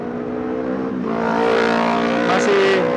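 Motorcycles speeding past in street racing, a loud rising engine roar with a revving whine that swells as the bikes pass close by.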